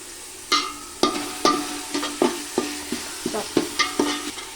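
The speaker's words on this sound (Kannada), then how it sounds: "ಇದಾದಮೇಲೆ ಫಸ್ಟು ಬೀನ್ಸ್ ಹಾಕಿ, ಏನಕ್ಕೆಂದರೆ ಸ್ವಲ್ಪ ಬೇಯೋದು ಲೇಟ್ ಆಗುತ್ತೆ" Beans are stirred in a pan of hot oil at the start of a vegetable stir-fry, a loud close run of rhythmic spoon scrapes and clacks over a soft sizzle.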